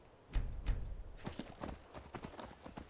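Horse hooves clip-clopping in Skyrim, a stolen horse named Frost trotting along: two heavy low thuds first, then a quicker run of sharp, evenly spaced hoofbeats, fairly close and moderately loud, with no talk over them.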